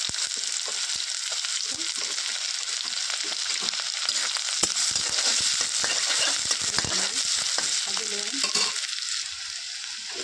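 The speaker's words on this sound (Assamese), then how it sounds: "তেলটো গৰম হয় পিঁয়াজখিনি দি দিলোঁ। পিঁয়াজে জলকীয়া একেলগে দি দিছোঁ।" Onions and green chillies fry together in hot oil, giving a steady close sizzle broken by repeated scraping and stirring sounds from the pan.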